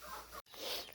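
Chickens give a couple of brief soft clucks, faint and close, split by a short gap of silence, with no voices.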